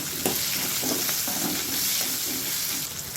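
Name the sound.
onions frying and being stirred in a pan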